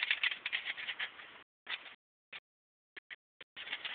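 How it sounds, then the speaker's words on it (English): Metal tent stakes are driven through a metal multi-fuel stove screen, giving scraping, rattling metallic bursts that come in a long run, then short separate clicks, then a final rattle, close by. "I would just drive these tent stakes through"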